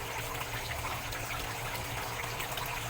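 Water gushes steadily into a crayfish pond holding female grower crayfish, a continuous broadband rush that stays loud and even throughout with no talk over it.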